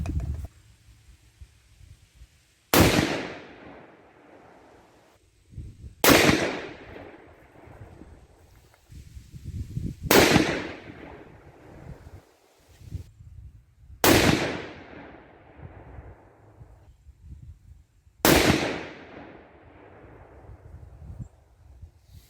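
Five loud 6.5 Creedmoor rifle shots with 123 gr Lapua Scenar bullets and H4350 powder, each a sharp crack followed by a long rolling echo, spaced about four seconds apart at close range, no voices.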